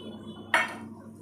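A single sharp clink of bowls being handled, one bright ringing strike that decays quickly over a quiet room background.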